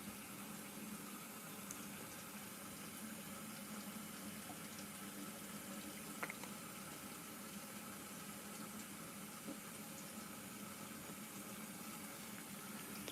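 Water runs steadily into an LG ThinQ MEGA Ultimate washer filling toward its max line on a darks cycle, a faint continuous rushing hiss with a few soft clicks, no voices.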